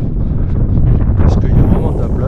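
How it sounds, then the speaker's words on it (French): Strong wind buffeting the microphone outdoors at the Hollerich skatepark in Luxembourg, a loud continuous low rumble and roar that never lets up. "Désolé, il y a beaucoup de vent aujourd'hui."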